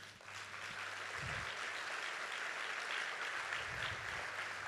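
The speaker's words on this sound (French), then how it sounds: "on peut peut-être l'applaudir" Applause from a conference audience at a plenary session in Paris, a steady broadband wash of clapping held for several seconds at moderate level, with low hum underneath.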